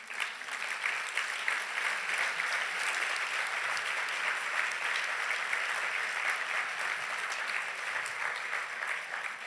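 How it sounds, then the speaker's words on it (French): A church congregation applauds Joseph with long, steady clapping from many hands filling the room, even in level from start to finish. "Est-ce qu'on Joseph. peut applaudir Joseph?"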